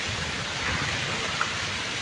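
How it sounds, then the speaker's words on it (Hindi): Heavy rain pours steadily over Solan, a dense unbroken hiss with no voices. "आज थोड़ी तेज़ है बारिश हो रही है।"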